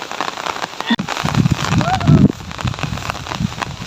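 Steady rain pours down on a farm where people are bathing in it, a dense even hiss running throughout with voices talking and calling over it.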